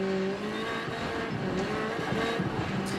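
Rally car engine revving steadily in second gear in Assetto Corsa Rally, sliding through corners under throttle with tonal engine drone, faint tyre scrub and gravel noise, loud and continuous throughout.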